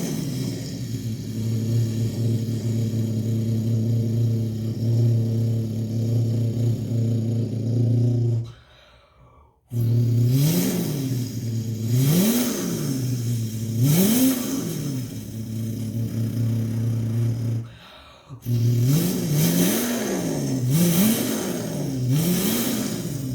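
A person imitates a Bugatti Chiron engine with their mouth, droning and rising in repeated rev-like swells, loud and close, with two short breaks for breath.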